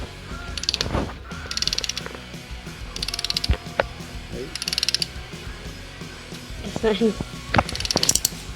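A torque wrench ratchets in repeated bursts of quick clicks while bolts are snugged down during a QR25 engine rebuild on a B15 Sentra, close and fairly loud, with a brief spoken word partway through.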